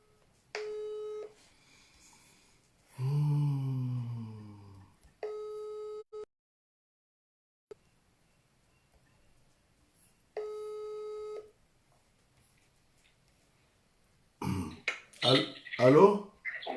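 A telephone call tone sounds in a repeated pattern of short steady beeps while someone is being called, broken by gaps and a brief murmur, followed at the end by a person speaking.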